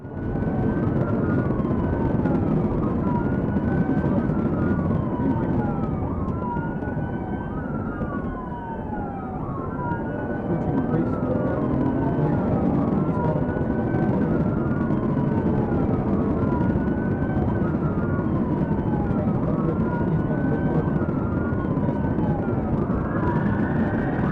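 A police car siren wails continuously during a highway pursuit, its rising and falling tone cycling steadily and loudly over a constant road and engine roar.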